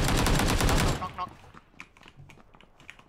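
Rapid automatic gunfire in the battle royale game PUBG, a loud dense burst of shots that stops after about a second, followed by faint scattered sounds and quiet voices talking.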